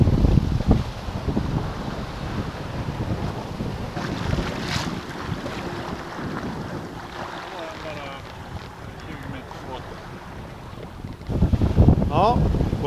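A small motorboat, the 87, under way on open water with its hull fouled by barnacles and weed gives a continuous engine and water rush, heavily buffeted by wind on the microphone, with louder gusty bursts at the start and end.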